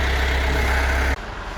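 A farm tractor engine idles at reduced revs, a steady low rumble that runs alone and then drops abruptly to a quieter hum near the end.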